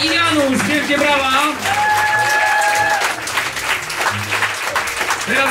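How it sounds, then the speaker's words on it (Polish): An audience applauds after a theatre performance by an association's actors. Steady, full clapping from a crowd fills the room, with voices rising over it. "Narratorzy Monika i Janusz, wielkie brawa."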